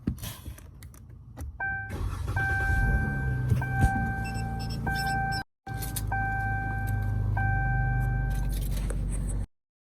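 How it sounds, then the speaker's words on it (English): A Dodge Challenger is started and left running, a low steady engine hum heard close up, accompanied by electronic chime tones and a few clicks and jingles; the sound briefly cuts out midway and ends abruptly. "Turn the car on."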